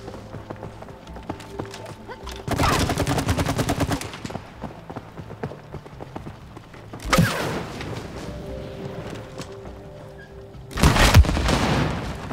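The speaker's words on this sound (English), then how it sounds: "explosions" Explosions and gunfire in the co-op video game It Takes Two burst out in three loud, dense blasts with rapid crackling, separated by quieter stretches of steady game music and ambience.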